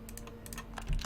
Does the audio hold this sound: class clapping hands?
no